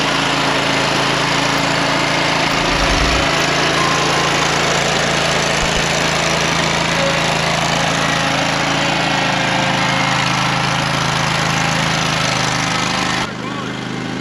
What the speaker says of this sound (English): letting his trimmer warm up